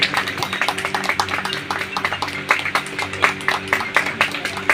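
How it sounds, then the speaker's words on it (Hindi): A crowd at a public anniversary ceremony breaks into loud, dense applause that continues steadily, with a faint tonal hum underneath. "जोड़ की तालियां।"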